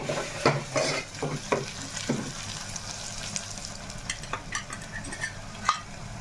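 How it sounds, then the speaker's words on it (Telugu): Onions frying in a pan for mutton curry give a steady sizzle under close stirring, with a spoon scraping and knocking the pan in a quick run of strokes before settling into soft sizzling. "ఇప్పుడైతే ఇదిగోండి ఉల్లిపాయ అయితే మనకి బాగా వేగింది"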